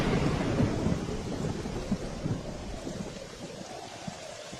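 Heavy rain pours steadily with a deep rumbling storm underneath, loud and continuous with no voices.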